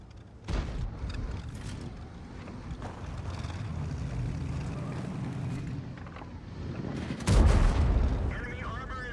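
A tank gun fires in World of Tanks, a sharp heavy blast after a stretch of low engine rumble and wind, with someone talking over parts of it.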